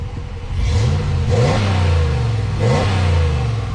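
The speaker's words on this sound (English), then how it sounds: "let me let you guys hear what our engine sounds like" A 2022 Ram 1500 Laramie pickup's engine revs up in three short bursts from idle, each a rising mid-pitched roar that falls back, loud and close with no talking.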